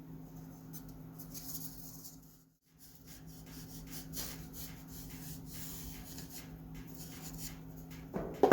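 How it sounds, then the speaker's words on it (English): Sandpaper rubs against the balsa wood wingtip of a model aircraft, a soft, close scratching in uneven strokes with a brief pause partway through. "There is the first wingtip sanded, ready for the lamination."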